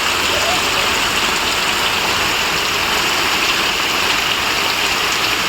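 Heavy rain pours down in a steady, loud, dense wash of noise that stays unbroken throughout, with no clear voices above it.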